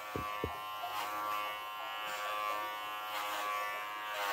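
Cordless low-noise two-speed pet clippers buzz steadily while shaving through a dog's thick fur, a close, continuous electric hum with a few faint knocks at the start.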